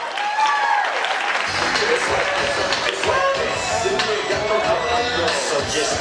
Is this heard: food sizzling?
no